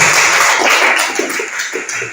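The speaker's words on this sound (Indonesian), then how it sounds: "tepuk tangan untuk kelompok 1" A classroom of students applauds a presenting group with a steady, dense patter of clapping hands throughout, fairly loud and close, with no voices over it.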